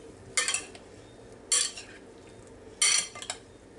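Three short scraping, clinking strokes of a spoon stirring strawberries, cantaloupe and honeydew melon in a bowl, spaced about a second apart over a faint quiet background.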